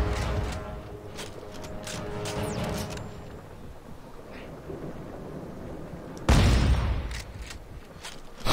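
Loud shotgun blasts in the sci-fi horror game Dead Space 3. A burst of booming shots comes early, and one heavy close blast hits near the middle, with no talking.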